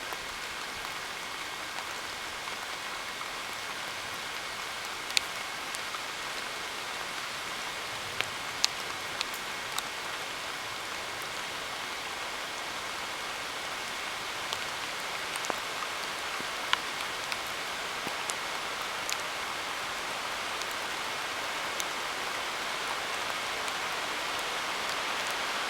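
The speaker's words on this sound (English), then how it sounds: "Here comes the rain." Steady rain patters on surfaces all around, a soft continuous hiss with occasional sharper drips standing out.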